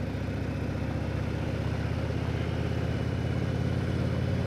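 A motorcycle engine drones steadily at high revs, a continuous buzzing roar with no voices.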